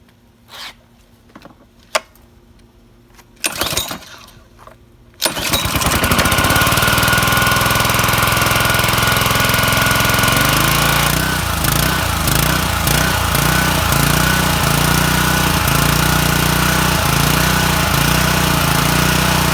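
A Honda GCV160 lawn mower engine with a rebuilt carburetor pulls and catches, then runs loud and steady, its rough idle settling into a continuous drone after a few quiet tugs.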